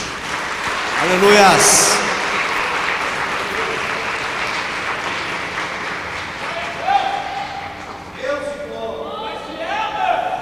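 A church congregation at a Friday evening service breaks into applause, swelling loudly early on and then continuing more steadily, with voices calling out under the clapping before speech resumes near the end.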